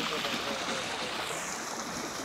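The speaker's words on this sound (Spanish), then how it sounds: "Y pues este es el afluente" Spring-fed stream flowing near its source at Poza Carcagua, Santa Ana, El Salvador, giving a steady broadband rush of running water that holds even and fairly loud throughout, with no talk over it.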